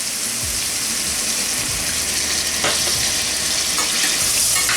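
About half a cup of water is poured into sautéing chicken and onion mix for a dhaba-style stir fry, setting off a loud, continuous hiss and sizzle that stays close and dense with no voices.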